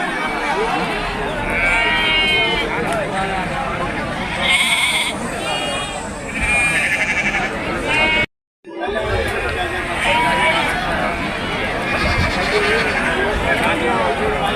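Goats and sheep bleat repeatedly at a busy weekly livestock market, calls overlapping near and farther off, while a crowd chatters and people talk over them; a brief dropout breaks the sound midway.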